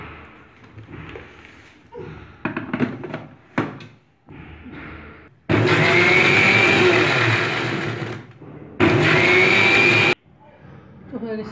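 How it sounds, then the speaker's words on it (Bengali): A kitchen blender purees about two cups of cubed watermelon into juice in two loud, steady whirring bursts, a long one and a shorter one, after quieter handling clatter and bumps. "এখন আমি এটা মুখটা লাগিয়ে একটু ব্লেন্ড করে নেবো।"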